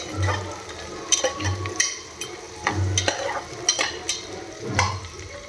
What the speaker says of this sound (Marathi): गाजरला पण थोडं परतून घ्यायचं आहे